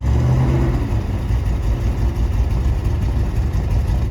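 An eight-tonne armoured car's engine runs after a tow start, a loud, steady low rumbling idle with a rough, throbbing texture and no talk.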